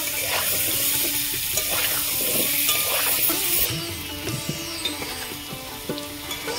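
Potatoes being stirred and fried in a pan for a vegetarian meal, a close sizzle with clattering spatula scrapes and knocks against the pan, busier at first and then calmer.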